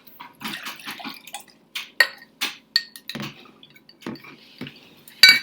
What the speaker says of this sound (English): I can pour it into new cups